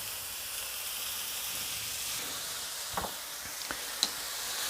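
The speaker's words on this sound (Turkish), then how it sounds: "Biber karışımı ilave edeceğim. Biraz da bunlarla sote yapacağım." Mushrooms and a pepper mix sautéing in a pan for a vegetable omelette, a faint, even sizzle throughout with a few soft spatula clinks and scrapes near the end, no talking.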